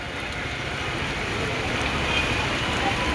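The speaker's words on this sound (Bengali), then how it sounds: "25 মিনিট ধরে অনবরত বৃষ্টি হচ্ছে।" Heavy, continuous rain pours down beside a roadside shop under dark clouds, a steady dense hiss of water on the street and surfaces that stays loud and unbroken throughout, with faint traffic rumble underneath.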